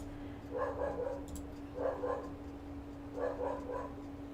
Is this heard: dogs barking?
yes